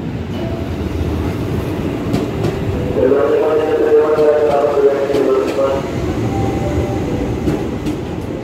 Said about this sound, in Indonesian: Dari stasiun Manggarai ini kita transit KRL yang menuju ke Tanah Abang.